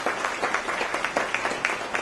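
Audience applause for former Distinguished Alumni recipients standing at an evening recognition ceremony, steady dense clapping from a crowd close by, with a soft voice faintly mixed in.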